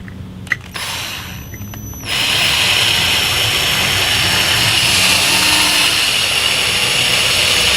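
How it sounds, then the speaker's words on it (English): A power drill runs with a 1/16 inch bit, boring a small hole through a plastic shutter slat pivot piece during repair; a steady loud whine starts after a brief faint start-up and holds to the end. "I use a 1/16 of an inch drill bit to drill a hole in here"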